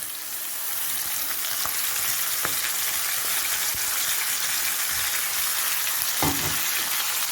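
Tomato purée fries in oil with ginger-garlic paste for a Guntur-style prawn curry, a loud steady hiss and crackle with a few faint clicks of a spoon, no voices.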